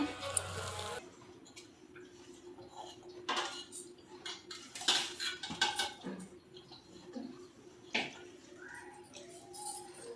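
Plates and steel cutlery clinking during a home meal, scattered light taps and scrapes at close range, fairly quiet with irregular gaps and faint background sounds.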